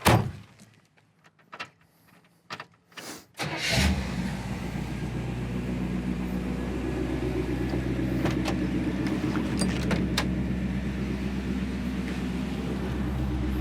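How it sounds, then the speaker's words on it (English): A 1956 Chevrolet 210 starts up after a few clunks and a brief crank, then settles into a steady, close idle that runs on without talk. "This thing starts easy"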